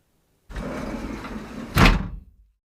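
A sliding glass door on an old-fashioned house rolls open as a sound effect in a horror audiobook, a steady rumbling slide for about two seconds ending in a louder thump as it stops.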